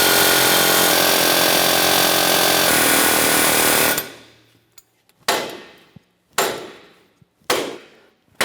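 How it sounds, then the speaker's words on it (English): Air hammer working on a seized front wheel bearing of a 2014-2018 Mazda 3: a loud continuous pneumatic rattle for several seconds, then stops and gives way to four sharp, ringing metallic strikes at irregular spacing. "I'm going to be using an air hammer and I'm going to start tapping along the base of the bearing"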